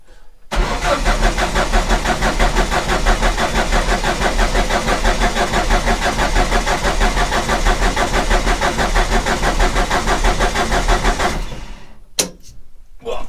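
A car engine cranks steadily on its starter motor for about eleven seconds in a rapid, even churning rhythm without catching, then stops, leaving a few faint clicks.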